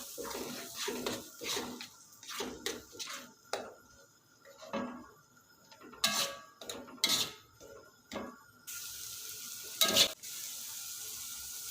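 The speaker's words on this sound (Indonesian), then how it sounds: "lalu akan aku tumis bumbu yang sudah aku haluskan tadi" Blended spice paste sizzling as it is sautéed in a pan for chicken rica rica with coriander, with irregular stirring scrapes and clinks of a spatula against the pan, fairly quiet and close, no talking.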